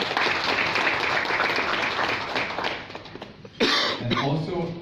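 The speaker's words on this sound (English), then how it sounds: "give a round of applause to you guys" An audience at a fitness expo applauds, a broad wash of clapping for several seconds that fades, followed by a brief burst of noise and a voice near the end.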